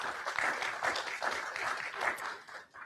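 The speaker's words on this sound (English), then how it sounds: "You can applaud for them too." Applause from an audience at a school board of education meeting, a steady patter of many hands that holds for a few seconds at moderate distance and then tapers off.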